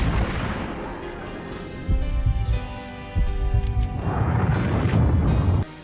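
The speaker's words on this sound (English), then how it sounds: "the gun effects are all very realistic" Loud, close gunfire from the Max Payne PC game comes as deep booming blasts and heavy thuds over a dense, rumbling game soundtrack, with several shots bunched in the last few seconds and no voice.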